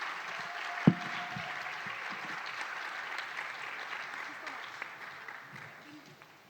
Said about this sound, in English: So let's give them a very big hand of applause,